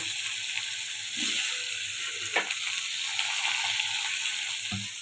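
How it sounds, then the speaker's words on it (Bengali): Potatoes fry in hot oil with panch phoron, making a steady close sizzle with occasional pops and light scrapes in the pan and no speech. "দিয়ে আলুগুলো একটু ভেজে নেব"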